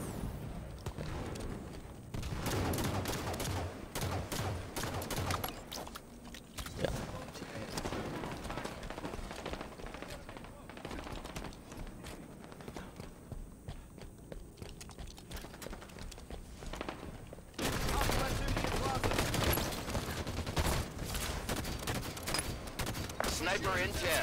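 Rapid gunfire bursts and weapon blasts from Halo 5 Team Arena multiplayer, loud and almost continuous, with overlapping shots and game effects that swell louder near the end.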